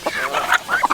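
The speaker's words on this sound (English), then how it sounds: "Look how big the little ducks are getting." Ducks on a farm give a rapid burst of quacks and squawky calls, several birds overlapping, close by and fairly loud for just under a second.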